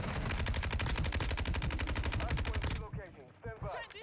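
Rapid automatic fire from a Call of Duty Modern Warfare gun, a loud steady stream of shots for nearly three seconds before cutting off into quieter game sounds.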